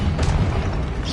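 A Confringo spell explosion from Hogwarts Legacy hits as a dense, loud boom with a rumbling low body, sustained across a short burst without any talking.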